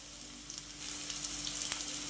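Steady sizzling of garlic and onion sautéing in hot oil, a close, continuous crackle with small pops and no talking.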